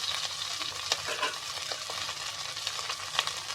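Chopped onions fry in a pan with a little pink salt, a gentle continuous sizzle broken by quick stirring scrapes and taps, heard up close with no talking.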